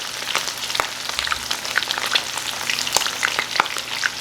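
Coconut-breaded shrimp frying in hot oil, a steady close sizzle dotted with sharp pops and crackles throughout.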